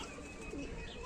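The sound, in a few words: pigeons cooing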